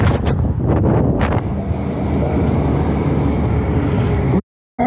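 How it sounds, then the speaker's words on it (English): Strong, hurricane-force wind buffets the microphone while riding an electric bike on a long-distance trip, a loud continuous roar with gusty surges before cutting out briefly near the end. "the wind is blowing with the force of a hurricane"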